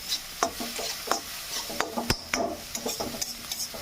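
A spoon stirs bird curry in a kadai, making repeated close scraping clinks against the metal over a soft sizzle, irregular strokes at a moderate, quiet level with no talking.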